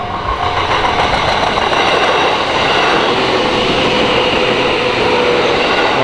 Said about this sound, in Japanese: 普通に、まあ、普通列車ですね